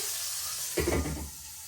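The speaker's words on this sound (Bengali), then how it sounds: "পটল আগে ভেজে নিতেছি" Turmeric-coated pointed gourd sizzles steadily in hot oil, with a brief louder burst of crackling and stirring midway, close up and without talk.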